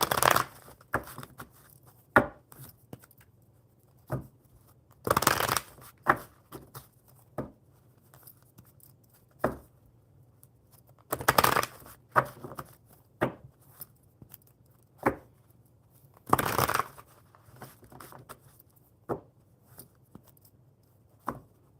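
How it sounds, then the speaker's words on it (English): Tarot cards are shuffled in repeated bursts of riffling and flicking, close up, with quiet pauses and soft taps between each bout. "I will shuffle the enchanted map cards"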